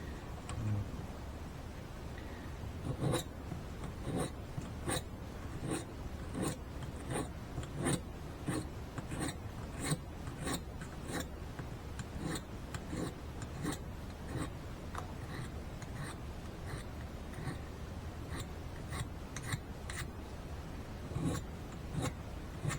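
A file rasps along a machete edge to sharpen it, giving a long run of quick, evenly spaced strokes at close range, soft and dry, with no talking.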